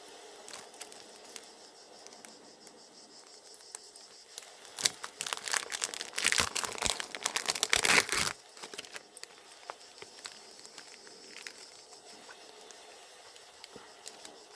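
Plastic sticker packaging crinkled and handled, with quiet scattered rustles at first, then a dense burst of loud crackling crinkles midway that fades back to light handling noises.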